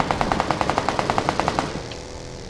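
Rapid automatic gunfire in the video game PUBG Lite: a steady burst of about fifteen sharp shots for over a second and a half, then stopping, with no talking over it.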